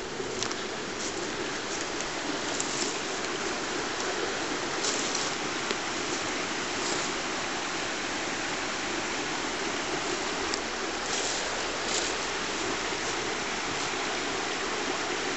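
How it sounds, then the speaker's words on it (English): Small stream, a tributary of the River Mourne, flowing over gravel: a continuous, close rushing and babbling of water with no voices. "And this is just a tributary off the Mourne"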